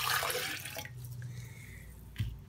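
Orange juice poured into a small glass, a close splashing liquid rush that settles into a thinner trickle with a brief knock near the end, no talking.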